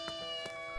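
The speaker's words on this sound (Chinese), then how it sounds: "听到了旁边有猫哀嚎的声音。" An injured kitten that was struck by a bus wails on a roadside with a brief, faint, strained meow.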